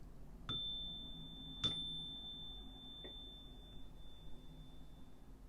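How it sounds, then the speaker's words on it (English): A single bell struck three times at uneven intervals, each strike leaving a clear sustained ring that fades slowly over a quiet background. "let us begin by ringing the bell to clear the energy"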